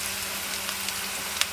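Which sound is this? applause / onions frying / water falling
onions frying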